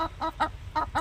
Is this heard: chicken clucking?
yes